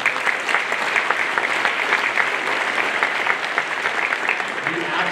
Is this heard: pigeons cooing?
no